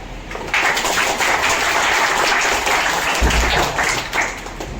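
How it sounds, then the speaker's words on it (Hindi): Audience clapping at a public school gathering: a dense, steady burst of applause that stays loud and continuous from start to finish, with no clear talk over it. "ताली कैसे बजाते हैं?"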